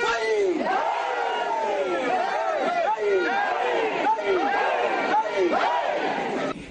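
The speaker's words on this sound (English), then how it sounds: "The demonstrators, clad in red attire, marched through the principal streets of Bolgatanga, chanting various protest songs" A crowd of over a thousand red-clad demonstrators marches through the main streets of Bolgatanga, chanting protest songs in loud, continuous, rhythmic unison with rising and falling calls that fill the air.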